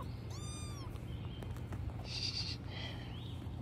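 A young kitten gives a single short meow near the start, followed by a fainter high mewing sound, all over low background noise.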